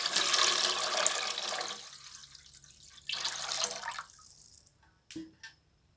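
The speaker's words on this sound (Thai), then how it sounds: "เหลืองแล้วก็ใส่น้ำลงไป น้ำซุปน้ำซุป" Water is poured into a pot over garlic and coriander root fried until golden, making soup for bitter melon and pork belly stew; a splashing pour fades and stops, then a few faint drips and clinks follow.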